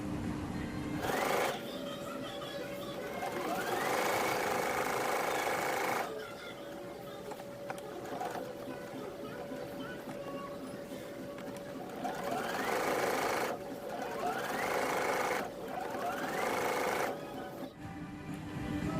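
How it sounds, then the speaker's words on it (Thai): A sewing machine stitches a straight seam around a rectangular bag panel with an inset zipper, running in several steady bursts with short pauses between them. The whirring motor is close and loud, with no talk over it. "จากนั้นให้ทุกคนนำไปเย็บนะคะ เย็บด้วยตะเข็บเส้นตรงนะคะ"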